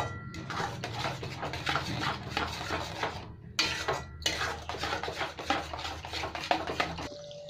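Cashew-poppy seed masala paste frying in a pan while being stirred, with busy clinking and scraping of a metal utensil against the pan over a low sizzle, a brief pause midway and a sudden stop near the end.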